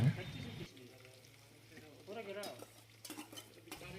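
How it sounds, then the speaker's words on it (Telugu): Chicken curry ingredients are stirred in a pot, producing faint, close scraping and clinking of a spoon against metal, with a voice heard briefly at the start. "వేసిన తర్వాత ఇలా మంచిగా కలుపుకుందాం"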